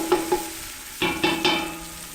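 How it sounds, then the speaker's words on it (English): Vegetables sauté in a pan for cioppino, with a soft sizzle under several sharp clinks and taps of a utensil against the pan in two short clusters, close by and without speech. "We just kind of let that saute like this."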